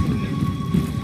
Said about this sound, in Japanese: 雨も降ってるし